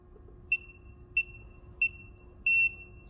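A cheap programmable DC power supply from Amazon beeping as it powers on, four short high electronic beeps at even intervals, the last one slightly longer, over a low steady hum.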